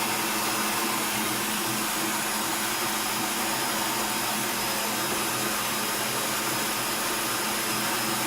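An electric mixer whips meringue at high speed with a steady, even whir. The drone stays unbroken and fairly quiet, and no one speaks.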